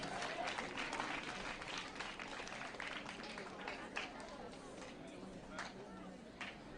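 A crowd at a school education prize-giving ceremony in Gatundu South, Kenya, claps steadily and fairly softly for about seven seconds, with no single standout clap.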